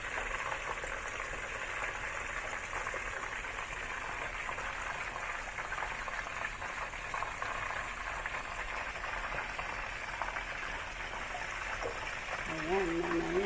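Chicken fries in a little oil with a steady, even sizzle and faint crackle, close and continuous; a brief voice sounds near the end.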